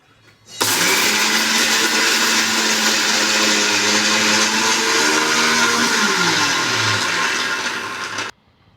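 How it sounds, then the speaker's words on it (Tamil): A mixer grinder jar whirs loudly, grinding coconut chutney for a rava upma meal; the motor starts abruptly, holds a steady high roar for about eight seconds, then cuts off. "இந்த ஜாரில் தான் இப்போ நாங்கள் அரைக்க போகிறோம்"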